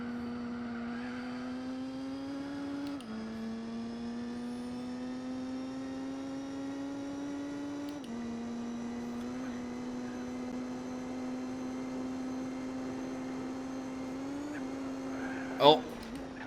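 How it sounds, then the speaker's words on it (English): A German car's engine drones steadily in the racing game Gran Turismo 4 during a 24-hour endurance race at the Nürburgring, its pitch climbing and dropping with gear changes and a brief sharp spike near the end. "Definitely sounds like a German car there."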